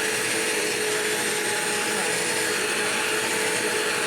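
A Bissell CleanView vacuum cleaner runs steadily throughout with a constant loud whirring motor drone and airflow hiss, with no pauses or talk.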